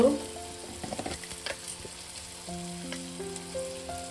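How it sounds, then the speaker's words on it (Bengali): Spice masala fries in a pan for a prawn and fig curry, with sharp sizzling and clattering stirs at first, then a softer steady fry under a sustained tonal hum. "মশলাটাকে আমি আবারও মিনিট 2-3 ভালো করে কষিয়ে নেব।"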